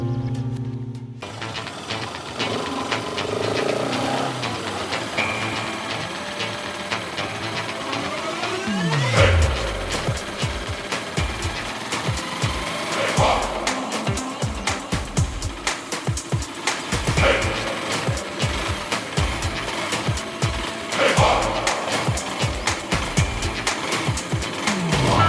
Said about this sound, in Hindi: बाइक क्यों रोक दी तुमने?